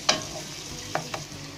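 Onions and a bay leaf fry in a pan while a spoon stirs them. A low sizzle runs throughout, broken by a few brief scraping strokes, close and fairly quiet.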